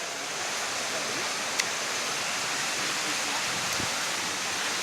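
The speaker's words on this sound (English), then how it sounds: "it's way to Kakochang waterfall" Kakochang waterfall in Karbi Anglong rushes in a steady, dense roar of falling water, continuous and loud with no breaks, with only a couple of faint clicks on top.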